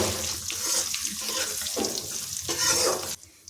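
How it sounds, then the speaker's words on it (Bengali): Cumin and chopped ginger fry in hot oil with a bright, close, continuous sizzle that swells and fades, stopping abruptly near the end; no talking. "আদা দিয়ে এখন এক মিনিট ভেজে নেব"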